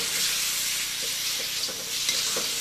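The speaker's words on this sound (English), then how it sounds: "While the meat's cooking, let's throw the garlic in right now, huh?" Meat and garlic sizzle loudly in a wok full of hot oil in a Chinese kitchen, a steady bright frying hiss with occasional soft scrapes of a paddle stirring.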